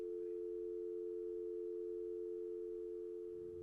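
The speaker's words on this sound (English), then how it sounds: "the phone would disconnect for a final time" A telephone line after a call disconnects, a steady continuous dial tone droning alone at moderate level without change, with no voices present.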